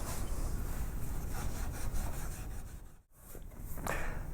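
Steady, close rubbing as a carved wooden rope-pattern candlestick is polished by hand with firm strokes. A brief pause breaks the strokes before they resume.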